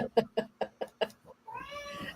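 A house cat makes a quick series of short chirping cries and then a drawn-out meow, faint and close.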